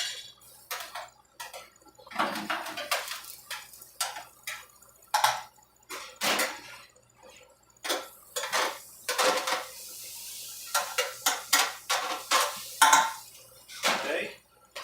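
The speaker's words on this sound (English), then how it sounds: "give this a stir" Food browning in a pan on a stove being stirred, giving a series of light metallic clinks and scrapes of utensil against cookware, irregular and fairly close, with some soft talking mixed in.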